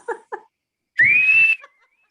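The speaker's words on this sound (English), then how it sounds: "every time I whistle, it is a sign for the maids to come running" A person gives a single rising whistle that holds steady for about half a second, loud and close, after two short faint vocal sounds.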